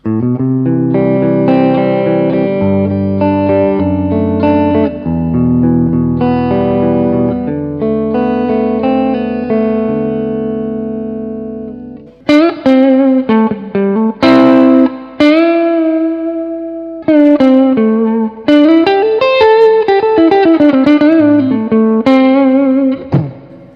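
An electric guitar plays chords and single-note runs through a Peavey Bandit 65 solid-state amp with a gritty, lightly overdriven crunch tone, loud and up close.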